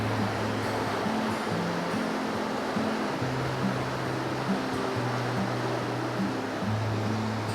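Water rushing through an opened lower gate leaf to fill the basin of a giant boat lift in Belgium: a steady, dense roar, distant and unbroken throughout, with faint low hum underneath.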